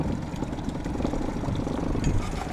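An outboard boat engine runs steadily after starting, giving a continuous moderate droning hum with no voices.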